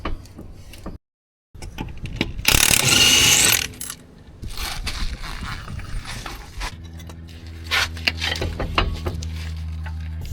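Parking brake adjustment on a Datsun Roadster, with mechanical clicks and ratcheting from the adjuster, a burst of scraping metal, then scattered clicks and clunks at close range.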